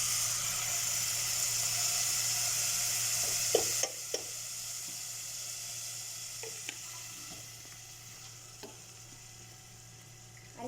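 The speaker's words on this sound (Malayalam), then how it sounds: "4 മോരാണ് ഞാൻ ഒഴിക്കുന്നത്. ഓരോ ഗ്ലാസ് വെച്ചുണ്ട് ഞാൻ ഒഴിക്കുവാണ്." Buttermilk poured into hot masala in a pan for kaachiya moru gives a steady, even sizzle that runs the whole time, with a few soft knocks and clinks scattered through and a slight drop in level partway.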